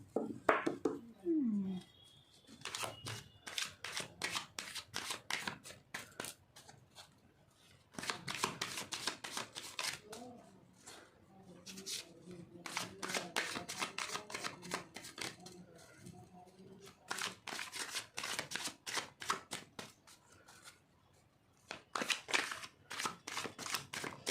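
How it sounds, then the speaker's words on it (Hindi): Tarot cards being shuffled by hand in dense, crisp riffling bursts, repeated many times with short pauses between, close and fairly loud, with a brief voice near the start. "मैं शफल कर लेती हूँ, फिर उसके बाद हम अपने कार्ड्स पुल करेंगे"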